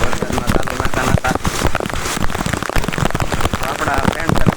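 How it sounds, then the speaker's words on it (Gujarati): Heavy monsoon rain pours down outdoors, a dense, steady hiss of drops drumming on surfaces throughout, loud and close, with voices and movement mixed in. "બહુ મસ્ત મજાનો વરસાદ આવી ગયો છે"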